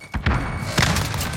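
A grenade goes off in Call of Duty Modern Warfare, a couple of heavy close thuds with a booming low rumble that lingers briefly, with no talk.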